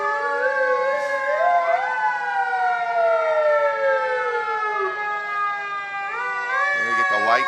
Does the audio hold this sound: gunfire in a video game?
no